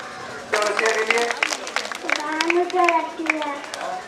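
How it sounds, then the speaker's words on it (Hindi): Clapping at a rural health camp as people applaud together, with scattered hand claps mixed with children's voices and chatter throughout. "जरा जोरदार तालियां बजाइए।"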